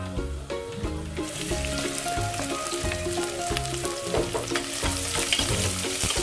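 Onion sizzles and crackles loudly in a frying pan as it is stirred, with constant hissing throughout. Background music plays underneath the cooking.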